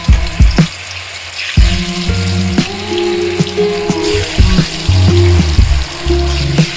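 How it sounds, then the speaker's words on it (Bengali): Hot oil sizzles and bubbles as dough pieces fry, punctuated by sharp clanks and taps of utensils close by. "তেল গরম হয়ে গিয়েছে, এবার একে একে সবগুলো দিয়ে দেবো।"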